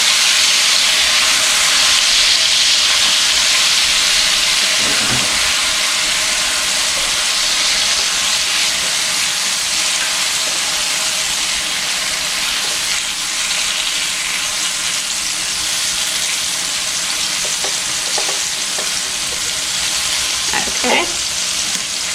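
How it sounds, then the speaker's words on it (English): Food sizzles and fries steadily in a hot pan for the Italian tomato sauce of a spaghetti-and-meatballs dish, a loud continuous hiss broken by occasional scrapes and clinks of stirring, with no talking. "So I'm going to put it in and just stir it around for just a minute."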